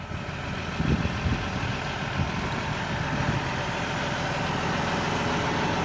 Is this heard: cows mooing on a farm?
no